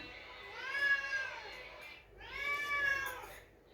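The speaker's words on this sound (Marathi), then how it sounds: "बघ ती मांजर कशी ओरडत तिथं." Two drawn-out cat meows, fairly faint and wavering, with a short pause between them and quiet background.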